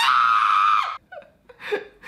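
Man screams at a very high pitch for just under a second, followed by shorter strained yelps and squeals, loud and close in an apartment while testing a powerful 3D-printed whistle.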